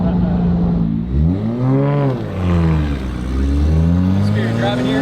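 An 800HP 2JZ-swapped Nissan 240sx with a six-speed manual drives and shifts down through the gears, its engine note dipping and rising in steady, loud sweeps from inside the car.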